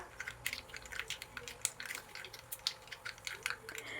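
Mustard seeds splutter in hot coconut oil in a small pan, giving faint, irregular crackles and tiny pops in quick succession close by.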